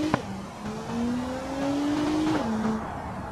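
Volvo XC90 and Volkswagen Touareg accelerate from a standstill in the BeamNG.drive video game, a rising engine drone climbing through a gear change with a brief tire chirp at the start, loud and close.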